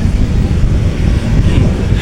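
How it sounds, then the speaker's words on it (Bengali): Strong wind gusting steadily along a coastal road lined with tall coconut palms near the sea, a dense low roar buffeting the microphone throughout with no pauses. "ওয়াও, অনেক বাতাস এখানে।"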